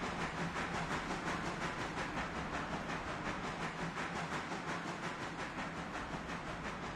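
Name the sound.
Mikado steam train hauling coal rolling by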